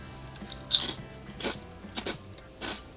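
Crunchy salt and vinegar potato chips bitten and chewed close up, with a sharp crisp crunch followed by a few quieter chewing crunches at a steady rhythm.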